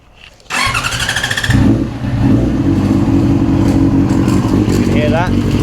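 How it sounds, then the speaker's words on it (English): A Yamaha R6 5EB motorcycle engine starts and runs steadily at close range, with a chain clattering and rattling, under loud, continuous mechanical noise and occasional speech. "We also have a noise coming from the chain."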